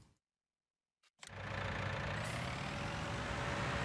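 A John Deere 6155M tractor engine in Farming Simulator 19 starts up after a brief silence and settles into a loud, steady, low diesel drone that holds evenly throughout.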